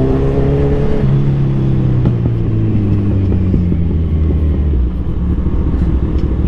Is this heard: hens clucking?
no